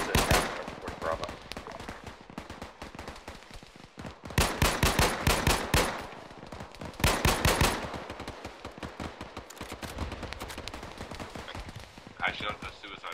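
Bursts of rapid automatic gunfire and single shots from an Arma 3 firefight come in long, loud volleys with short pauses between them. Radio-style voices talk under the shooting.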